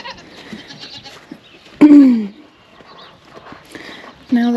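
Farm goats bleat nearby, two loud drawn-out calls standing out over quieter rustling and background voices, with a person talking in between.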